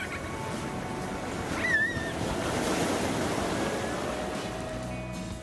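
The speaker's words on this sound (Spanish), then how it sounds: "eso que ese día no teníamos mucho oleaje, Pedro" Ocean surf washing into a rock pool on the coast at Punta del Hidalgo on a fairly calm day, a steady broad wash of water with light wind noise and no voices.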